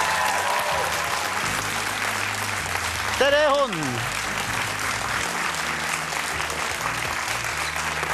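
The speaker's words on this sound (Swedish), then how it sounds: "Applåder!" Studio audience applause on a Swedish BingoLotto television broadcast welcomes a singer onto the stage, a dense, steady clapping that runs throughout, with an excited host's voice calling out briefly over it.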